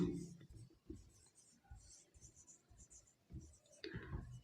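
Pen or chalk scratches out short, rhythmic strokes during a class 10 maths lesson, close and soft, mixed with someone talking quietly.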